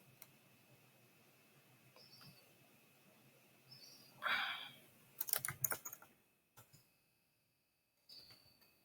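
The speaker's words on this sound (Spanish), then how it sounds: "entonces escribimos el título" Someone types a title on a computer keyboard in a quiet room, with a few sparse key taps followed by a short, denser burst of clicks, all faint and close.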